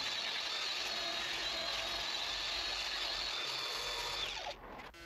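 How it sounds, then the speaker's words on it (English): A coarse power sander grinds steadily against a wooden log lamp finished with epoxy resin, a loud continuous whirring rasp that holds for several seconds before cutting off near the end. "going over the coarse sander now"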